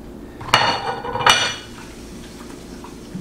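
Ponderosa lemon rinds go into a pot of boiling sugar syrup, marked by two sharp, close metallic clanks against the pot about a second apart, followed by a quieter steady background.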